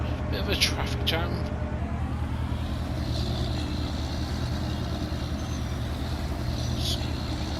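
Vehicles stuck in a traffic jam in Farming Simulator 19, a steady low engine rumble with brief high hissy bursts like air brakes.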